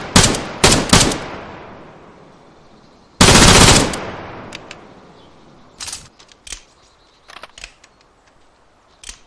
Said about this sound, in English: So with this gun you have a single shot and you have full auto.